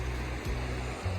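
Cairn River flows beneath a highway bridge, a steady broad rush of moving water with a low hum underneath and no voices.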